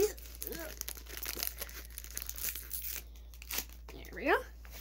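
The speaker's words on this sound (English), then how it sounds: "Open up this one using the scissors." Brief crinkly tearing of a Pokémon Evolving Skies booster pack's foil wrapper, cut open with scissors, close up, with rustling and a voice speaking around it.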